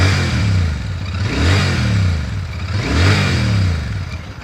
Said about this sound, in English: Nice sounding, smooth, very, very characterful engine that pulls at your heartstrings